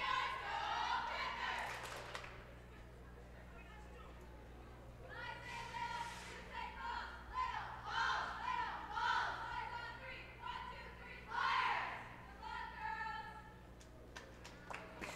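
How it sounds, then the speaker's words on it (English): Crowd voices rise in rhythmic bursts of a cheer at a high school gymnastics meet, Little Falls versus Park Rapids, swelling three times over a steady low hum in an indoor gym. "It's nice to see they've got a new cheer"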